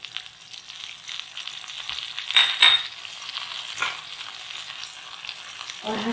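Masala of turmeric, red chilli powder, ginger garlic paste and grated coconut frying in a karahi for chicken chana, a steady close sizzle with stirring scrapes and a louder burst midway, no talking.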